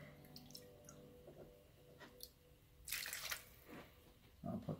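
Water poured into a container for germinating cabbage seeds on felt pads, a few soft splashing pours with brief drips and trickles, faint and close, separated by quiet gaps.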